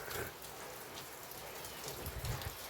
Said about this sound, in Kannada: ನಮ್ಮೂರು ಮಳೆ ಹೇಗೆ ಗೊತ್ತಾ ಇದೆ ಅಂತ ಮಲ್ನಾಡು ಫೀಲ್ ಕೊಡ್ತೈತೆ